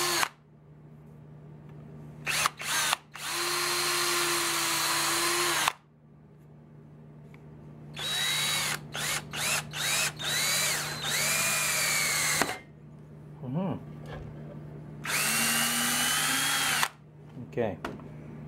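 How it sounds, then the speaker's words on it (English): A power drill bores into wood for a hatchet handle in several separate bursts of whining motor with short pauses between them, the pitch rising and falling as the bit spins up and slows, over a low steady background hum. "Making sure to clear the wood out of the shavings out of the drill bit."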